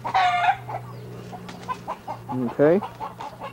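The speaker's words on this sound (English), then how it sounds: "There's chickens in there and junk like that." Chickens cluck and squawk nearby in a Puerto Rico setting, several loud rising calls coming in bursts with quieter clucks between, while a person briefly speaks.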